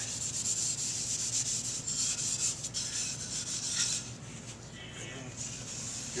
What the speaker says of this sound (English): I've got some synthetic steel wool. You don't need to rub them very hard.